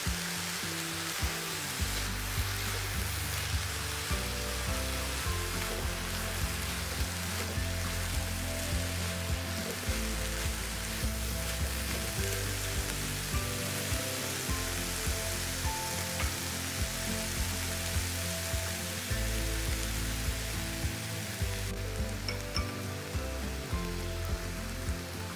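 Cabbage frying and being stirred in a pan gives a continuous dense sizzle, like steady rain, with low rhythmic scraping and thumping from the stirring underneath throughout.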